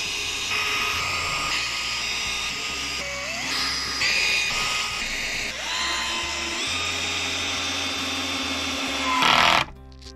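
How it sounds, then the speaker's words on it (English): A power drill whines in repeated bursts drilling wood boards in a loft, pitch shifting as it bites, with short pauses between runs and a louder burst near the end. "I'm going to run along and drill all of these and then screw them down."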